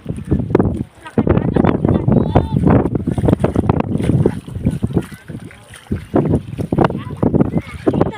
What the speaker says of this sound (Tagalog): Ikusog ang hangin.